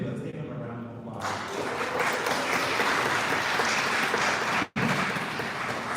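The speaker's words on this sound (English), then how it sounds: "Let's give him a round of applause." An audience at a church gathering applauds warmly, a full, steady round of clapping that swells after a moment of talk, with one brief dropout partway through.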